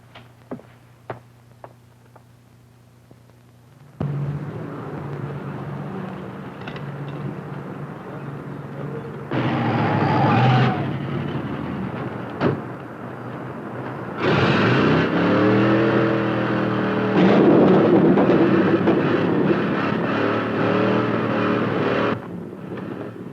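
A 1950s hot rod engine roars at racing speed, first idling with a few sharp pops, then surging in loud sustained bursts that swell and cut off, close and alone without talk.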